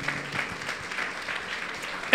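A church congregation claps together in steady, sustained applause that stays fairly subdued throughout, ending on a sudden louder burst at the very end.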